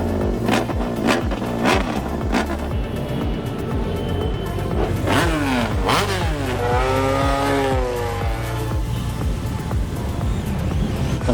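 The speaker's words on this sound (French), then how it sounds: "Petite parade à moto pour se remémorer le Grand Prix de France." A parade of motorcycles commemorating the French Grand Prix rolls past, engines droning steadily with rising and falling revs and one machine sweeping upward in pitch mid-way, loud and close throughout.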